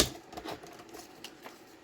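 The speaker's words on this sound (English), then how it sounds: "So I'm going to cut along this line here" Paper cut along a marked line with scissors or a trimmer while building a grungy handmade folio, heard as a quiet run of short, crisp snips and slices repeating steadily, close and alone.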